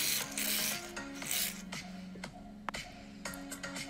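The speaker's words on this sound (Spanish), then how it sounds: "Luego empecé a agregar la espuma de afeitar." Shaving foam is worked into homemade borax-free slime, giving a close, squelching, rubbing rasp in repeated strokes with small clicks, alone with no talking.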